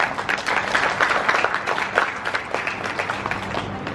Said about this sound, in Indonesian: Tepuk tangan buat Ibu Nadiana